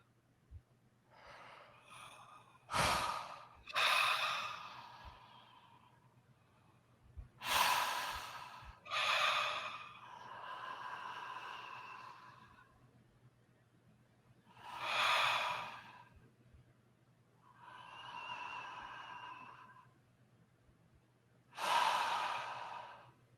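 A person does an open-mouth bioenergetic breathing exercise: slow, deep breaths in and out, some with sharp gasping intakes and long sighing exhales, repeated about seven times with pauses between, close and quiet with no talking.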